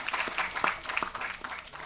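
An audience claps in thanks at the audio release event for the film Thanthai Sol Mikka Manthiram Illai. The applause is brief and fairly soft, a scatter of crisp claps in a hall.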